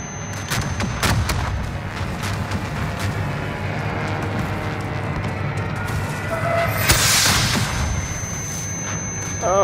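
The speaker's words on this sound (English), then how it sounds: "There's too many explosions." Rumbling explosions and gunfire in the Call of Duty: Vanguard live event, a dense continuous barrage with heavy low booms, a sharper blast near the seven-second mark and a faint voice now and then.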